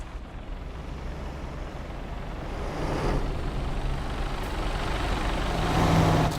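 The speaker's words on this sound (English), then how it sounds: "Why do I hear your engine as if you're only in, like, idle speed?" A car engine idles in The Crew Motorfest racing game as a steady, fairly loud low rumble that swells slightly toward the end, with no talking over it.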